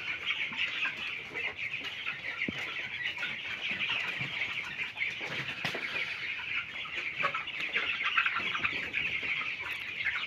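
Broiler chickens on a poultry farm in cold winter weather, crowded together in a shed, produce a constant dense chorus of clucks and chirps at moderate level, with occasional sharper calls and faint wing flutters, no talking.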